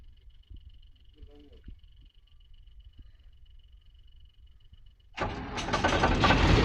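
A vehicle engine at a wheat harvest cranks and catches abruptly near the end, bursting into a loud close roar after a quiet stretch of faint background noise and a brief murmur.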